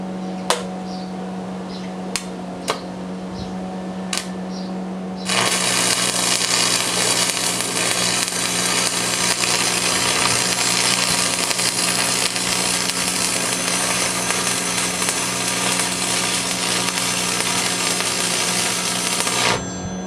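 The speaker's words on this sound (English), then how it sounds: "I'm going to go ahead and flip it on, and I'm going to weld at 135 amps." Lincoln AC225 arc welder welding at 135 amps: a hum with a few sharp clicks, then a loud continuous crackling, sizzling arc that holds steady for about fifteen seconds before cutting off, with no talking.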